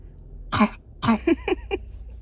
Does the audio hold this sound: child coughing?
yes